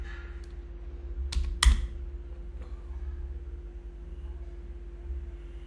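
A short burst of computer keyboard typing while entering a search, a few quick key clicks clustered together then a lone tap, close against a low steady hum, with no talking.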